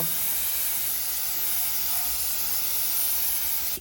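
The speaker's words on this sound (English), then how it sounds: "We're just gonna spray this out in Crystal White Pearl real quick." A steady, loud hiss of a paint spray gun applying Crystal White Pearl paint to a car bumper runs continuously and close up, cutting off abruptly at the end.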